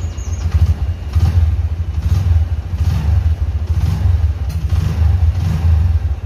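A Honda Verza 150 motorcycle engine runs loud and close, rising and falling in pulsing revs with a rough mechanical clatter throughout.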